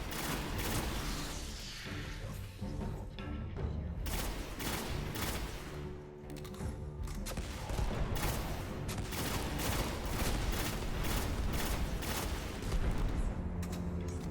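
High-powered rifle fire and explosions in the Destiny video game, with repeated heavy shots and booming blasts in a dense, continuous barrage that stays loud for the whole stretch.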